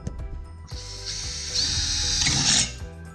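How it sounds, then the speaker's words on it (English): A power drill whirs steadily, its pitch rising as it bites into a thin metal mason jar lid, loud and close, then winds down. "drill 2 holes in the top of the mason jar lid"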